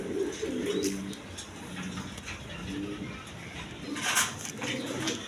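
Pigeons kept for sale cooing in soft repeated low calls, several birds close by, with a burst of brighter chirps and rustling near the end.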